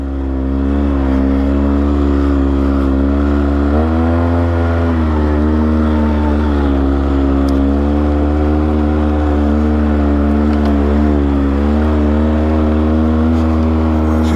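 A 2022 Polaris Sportsman 570 ATV climbing a steep trail in two-wheel drive high, its engine droning loud and close with a steady low growl that rises and wavers as the throttle shifts under load.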